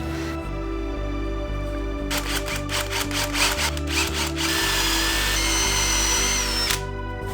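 A power drill whirs steadily into wood, boring dowel holes, its motor humming close by with brief pauses and bursts as the bit bites in.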